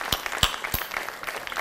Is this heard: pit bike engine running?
no